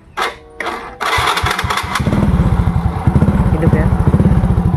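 A Honda Supra X 100cc motorcycle engine cranks with a couple of short starter bursts, catches, and settles into a loud, close, rapid putt-putting idle, with a voice briefly audible.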